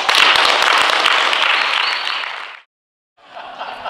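A seated group at a retreat bursts into loud, sustained clapping that gradually fades, stops, and then returns more softly after a brief silence.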